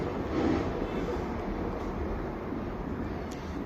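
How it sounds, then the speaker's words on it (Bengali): A low, continuous rumble of a train rolling past, steady throughout and fairly distant. "পাশ থেকে একটা ট্রেনের আওয়াজ শোনা গেল"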